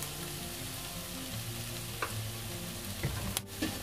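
Duck curry masala with curry leaves and coriander powder sizzles steadily in a pan while being stirred, with a few soft spoon scrapes near the end.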